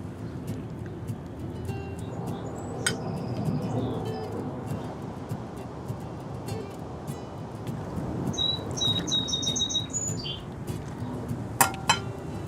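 Faint birds chirp and trill in short bursts in a garden against a low outdoor rumble, with a brief clink near the end.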